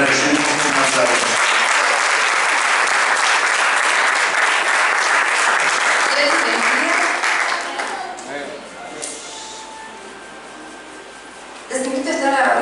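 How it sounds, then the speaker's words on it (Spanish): A church congregation at a Wednesday evening service applauds after a prayer, a loud, sustained crowd of clapping that drops off partway through, leaving quieter room sound and faint voices before picking up again at the end. "Y decimos amén y la recibimos con un aplauso."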